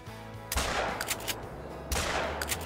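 Two sharp, loud gunshots ring out about a second and a half apart during a quail and goose hunt outdoors, each followed by a brief decaying echo and softer crackling between them.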